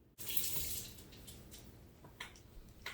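Tap water runs steadily into a kitchen sink for a rinse, starting abruptly with a loud gush and then settling into a continuous hiss and splash, with a few brief clinks near the end.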